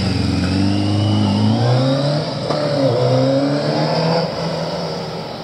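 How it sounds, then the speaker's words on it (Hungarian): A Kawasaki ZX10 Tomcat motorcycle engine revs up close, its pitch rising and falling through several throttle blips over a steady, loud running drone. "Szép motor, tényleg szép."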